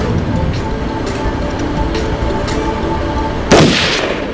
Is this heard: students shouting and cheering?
no